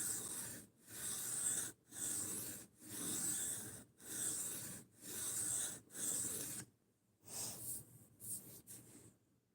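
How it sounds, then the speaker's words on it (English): A Scandi grind knife stroked across a sharpening stone up to 1,000 grit, about seven even, rasping strokes in a steady rhythm, then a few shorter, uneven strokes, close and clear with no talk. "I don't sharpen Scandi grinds all that often"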